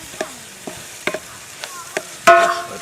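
Chicken masala for Neyyattinkara vayaloram chicken fries with chili powder in a pan, several separate scraping strokes of a stirring spoon over a low sizzle, ending in a louder clatter and hiss.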